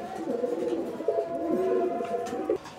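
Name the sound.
pigeons cooing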